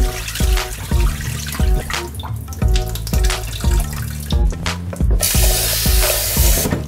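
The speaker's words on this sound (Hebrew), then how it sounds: "אני שוטפת וממש מערבבת בפנים את הבורגול כדי להוציא ממנו את כל החול ואת כל האבק" Bulgur wheat being rinsed and stirred by hand in running water, with a continuous splashing rush from a tap, close and steady, over rhythmic background music.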